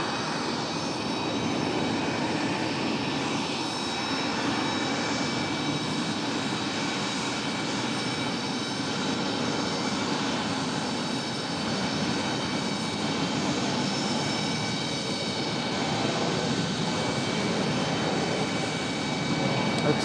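An airliner's engines roar continuously as it takes off from runway 5 left at Raleigh-Durham International, a broad steady rumble that holds strong throughout.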